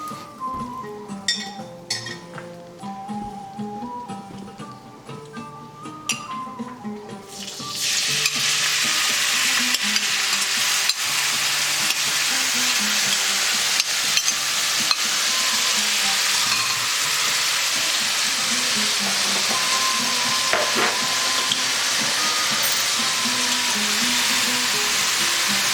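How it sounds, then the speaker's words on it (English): Carrots caramelize in a hot pan with a loud, continuous sizzle that starts abruptly after a few seconds of clinking utensils and a brief voice, then carries on steadily to the end. "So while the meat is cooking, I'm just gonna caramelize the carrots now."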